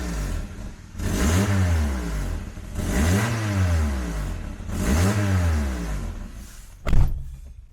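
A car engine revs three times in a row, each rising and falling with a rough, blowing exhaust note, close and loud, ending with a sharp knock or thump.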